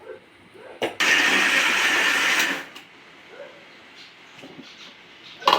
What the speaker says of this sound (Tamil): அடுத்து கரப்டியை போட்டு தூள் பண்ணிக்கிடலாம்